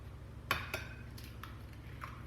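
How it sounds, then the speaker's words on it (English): Eggs being cracked into a bowl for banana bread batter, with two sharp clinks close together followed by softer taps against the rim, faint and close in a quiet kitchen. "I'm going to go ahead and crack my eggs in here"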